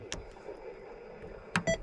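Two short electronic beeps near the end from a CRT 9900 TV being tuned, clear and close, after a stretch of quiet room hum with a faint click at the start.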